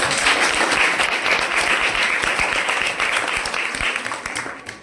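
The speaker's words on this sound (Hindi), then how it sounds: "अपने नन्हे मुन्ने बच्चों के लिए एक जोरदार ताली हो जाए।" Loud, dense applause for young children at an International Women's Day function, a steady wash of many hands clapping together that thins slightly toward the end.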